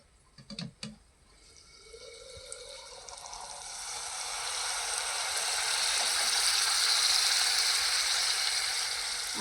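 Mixer grinder blending coriander with a little water into a fine masala paste, a couple of sharp clicks as the jar is set, then a whirring motor hum that swells and holds steady loud to the end.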